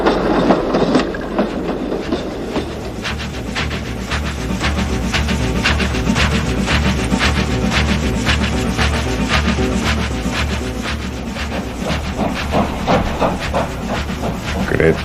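Train running on rails, heard from aboard: a loud steady rumble and hiss with rhythmic clicking of wheels over rail joints, continuous throughout.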